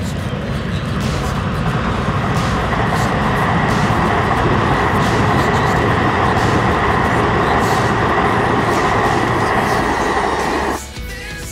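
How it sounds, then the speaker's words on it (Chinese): A train crosses the Kecheng railway bridge at Yuli in Hualien, Taiwan, with a loud, sustained rumble and clatter of rolling wagons that holds steady and then drops off sharply at the end, with no talking. "刚刚那个火车经过"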